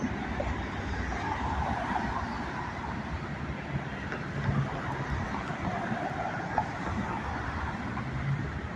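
Freight trains, a northbound manifest and a southbound local, pass under Main St in Greenwood, SC, with a continuous low rumble and rolling rail noise, steady and fairly close, wind brushing the microphone.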